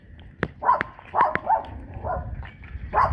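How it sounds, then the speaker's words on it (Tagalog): A dog barks in short, separate yaps spread across a few seconds, moderately close, with quiet background noise between the barks and no speech over them. "may aso yata dyan, Kulot."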